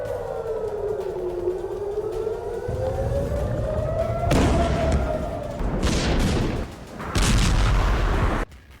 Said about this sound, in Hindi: ईरान के इस नए मिसाइल हमले की ये तस्वीरें देख लीजिए।